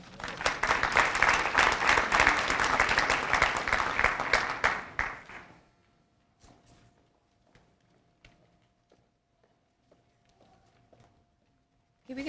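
Loud audience applause for the speakers at a Prince George's County summer launch event, sustained clapping for about five seconds, then dying away into quiet room noise with a few scattered claps and a faint hum.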